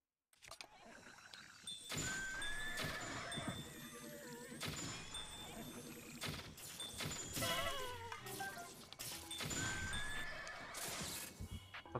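Horses neigh and whinny repeatedly over a steady, busy soundscape from the video game Horse Catcher, with hoof clatter and other animal calls.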